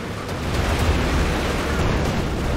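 Tank cannon fire in the war game Company of Heroes 2, a loud, sustained rumbling blast of broadband noise that stays heavy and dense throughout without a clear separate impact.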